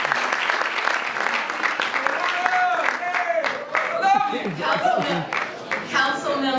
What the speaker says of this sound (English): I would like to give all of you a well-deserved round of applause.